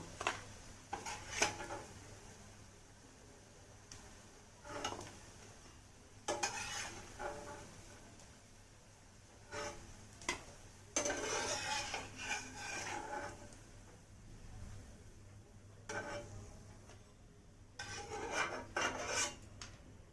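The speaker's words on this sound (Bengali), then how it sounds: "সবগুলোই খুব ভালো করে মজমচে ভাজা হয়ে গেছে এবার আমি সবগুলোই একে একে তুলে নিচ্ছি" Banana-stem fritters lifted one by one from a hot frying pan, with repeated scraping and clinking of a utensil against the pan, in short bursts spread over a low continuous sizzle of oil.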